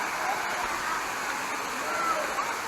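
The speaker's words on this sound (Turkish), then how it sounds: "Bu dördüncü şelale." One of the Tatlıca waterfalls roars as a steady, close wash of falling water, broadband and unbroken.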